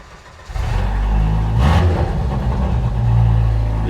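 A Jeep YJ Wrangler engine cranks briefly, catches and roars to life with a loud exhaust, revving up and holding a rough, throaty rumble close by.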